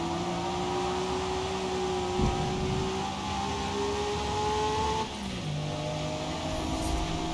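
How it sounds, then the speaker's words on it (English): High-revving race car engine in Forza Motorsport on a wet track, a steady sustained whine with rising harmonic pitch sweeps, holding loud and continuous with a brief dip near the end as revs shift. "Oh, the high revving engine makes it so much better"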